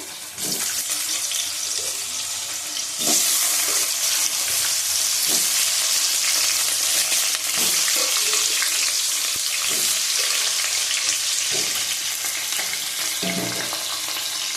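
Potatoes fry in hot oil beside fish in a pan, a loud continuous close sizzle with occasional stirring knocks and scrapes throughout.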